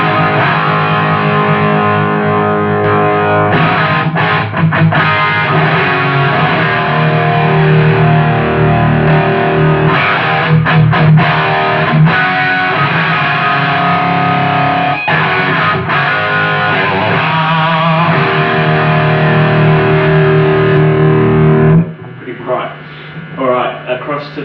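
Electric guitar through a DIY-built Headfirst Cali/Jose Marshall-style amp pushed into clipping: thick, saturated distorted chords and riffs with sustained crunch, loud and close, cutting off near the end into sparse quieter picking.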